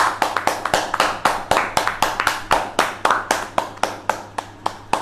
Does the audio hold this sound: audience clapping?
yes